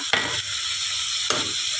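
Cumin seeds are tempered in hot oil alongside cinnamon and cardamom for a Bengali prawn curry. A steady, close hiss runs throughout, broken by two sharp crackles.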